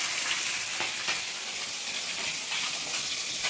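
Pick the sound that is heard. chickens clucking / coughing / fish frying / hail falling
fish frying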